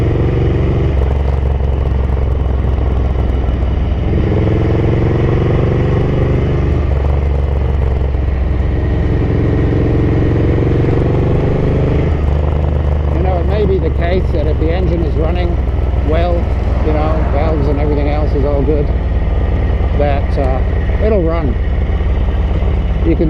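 A Ducati 900SS bevel-drive motorcycle engine runs steadily at idle and on overrun, a loud continuous throb that shifts pitch as revs rise and fall, with someone talking over it.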